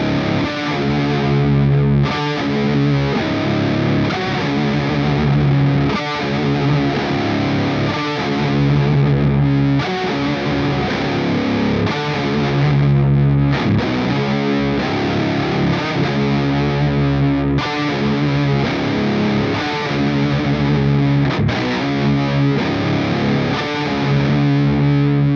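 A travel guitar rig played through distortion and effects gives a continuous loud, dense, saturated riff with chorus-like shimmer, steady throughout with no talking.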